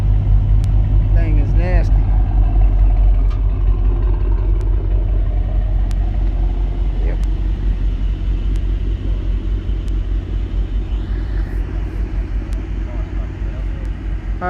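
Deep, steady engine rumble from a Mercedes-AMG GT63S runs loud and close throughout, with a voice talking over it.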